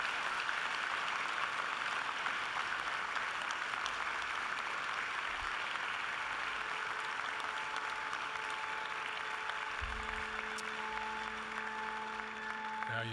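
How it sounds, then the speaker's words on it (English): Graduates at a university graduation ceremony give their family and friends a sustained round of applause that fills a large hall, steady and moderately distant throughout. "give them a mighty round of applause in thanks and"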